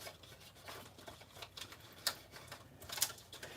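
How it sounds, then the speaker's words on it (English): A craft blade trimming a clear plastic sheet for toner foiling, heard as faint, uneven scratchy ticks and light taps close by, with a couple of sharper clicks and no talking. "And I'm going to trim it down"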